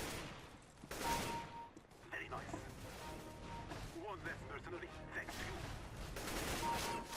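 Gunfire in a Counter-Strike: Global Offensive deathmatch, with sharp shots and short bursts scattered across the round as someone talks over the action.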